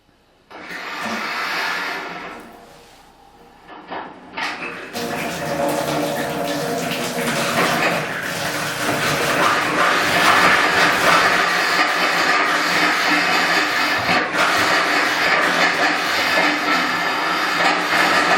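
A pulse forced through shower water pipes during a pipe-cleaning process: a brief hiss, then a loud, sustained rushing and rattling surge of water and air that keeps building and continues to the end.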